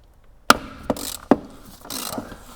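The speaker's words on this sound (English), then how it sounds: "To remove the oil filter, you will need a 27 socket." A ratchet with a 27 socket loosens the oil filter cover on a BMW F20 116d, giving three sharp clicks followed by a rapid ratcheting buzz, close and loud with no talk.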